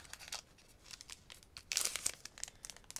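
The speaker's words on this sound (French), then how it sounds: "Avec un booster qui est difficile à ouvrir." Crinkly foil wrapper of a Pokémon card booster pack from a Paldea set being torn open with difficulty, a series of close crackling rips with a louder burst midway, no talking.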